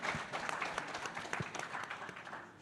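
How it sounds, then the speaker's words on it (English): A conference audience gives a brief round of applause, a soft, steady patter of many hands that stays fairly quiet and even throughout. "Give her another round of applause."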